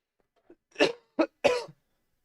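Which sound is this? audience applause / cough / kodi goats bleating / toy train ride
cough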